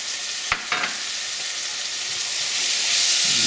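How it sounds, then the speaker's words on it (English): Tomatoes hit a hot pan already spiced with turmeric, salt and cinnamon, raising a steady close frying sizzle after a couple of sharp drops at the start, the hiss swelling slightly toward the end. "We're going to put our tomatoes in."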